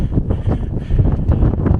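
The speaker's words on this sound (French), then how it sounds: "le vent qu'il y a ici, c'est une dinguerie." Gusty wind on the El Teide volcano buffets the microphone with a steady low roar and rumble, loud and continuous throughout, with no voices.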